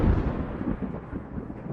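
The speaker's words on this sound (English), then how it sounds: "what we hear is multiple rumbles of that short," Thunder after a lightning bolt rolls as a deep, rumbling roar, loudest at the start and fading unevenly over under two seconds, with no voices.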